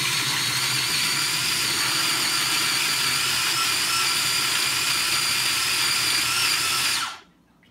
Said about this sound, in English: I'm just gonna grind this up.